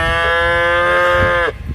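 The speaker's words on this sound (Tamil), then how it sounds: "இது வந்து ஒரு நாட்டு மாடு" A native Indian breed cow lets out one loud, sustained moo close by, holding steady before cutting off abruptly into quiet ambient noise.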